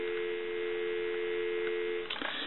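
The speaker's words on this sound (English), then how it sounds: "Give you some dial tone." A steady, unbroken telephone dial tone on a regular line, heard through a Northern Electric Galion rotary desk telephone, hums on its own, ending with a faint click.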